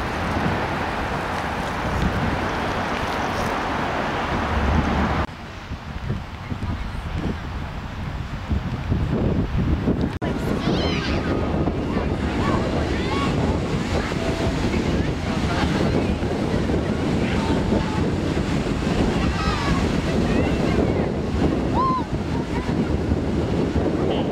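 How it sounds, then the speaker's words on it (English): Ocean waves and strong wind at Santa Monica beach, a steady roar of surf with wind buffeting the microphone throughout, continuous and loud. "now we're at the beach"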